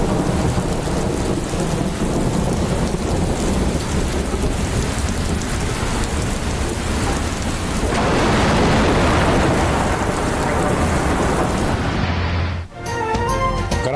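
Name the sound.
heavy rain and thunder in Karachi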